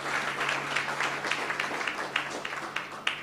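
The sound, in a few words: applause for the Lord in church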